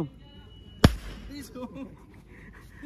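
A firecracker bomb bursts once with a sharp, loud crack amid a casual outdoor celebration, followed by a brief fading rumble while people chatter in the background.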